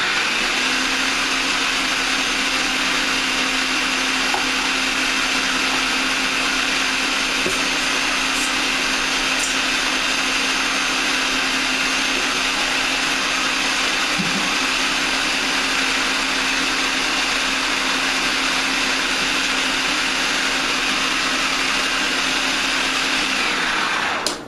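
A blender churns raw date caramel base in one long, steady, loud whirring run, the motor droning evenly with no pauses.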